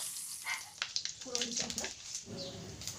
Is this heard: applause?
no